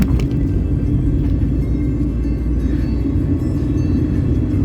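Dense traffic rumbles through Kuala Lumpur as a loud, continuous low roar of many cars, steady and close, with no distinct voices.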